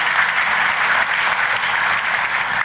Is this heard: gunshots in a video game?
no